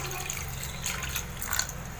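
Water poured into a container while preparing a healthy Ayurvedic juice, a steady close splashing flow running throughout with no voices.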